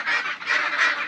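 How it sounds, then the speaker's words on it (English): Several loud, nasal honking calls from waterfowl, three bursts in quick succession, close by and with no talking. "We've got a bunch of ducks back there."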